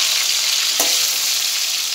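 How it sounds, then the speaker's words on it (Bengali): Tomatoes with ground ginger fry in hot oil, a steady close sizzle filling the whole stretch, with one brief stir or scrape partway through and no voices. "তেলের ওপরে টমেটো দিয়ে দিলাম, আর টমেটো দিয়ে আদা বেটেছি।"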